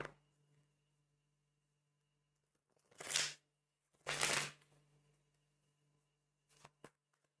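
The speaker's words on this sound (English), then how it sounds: "Let me finish the shuffle here." Tarot cards are shuffled in a few short, soft riffling bursts separated by quiet pauses, close and faint.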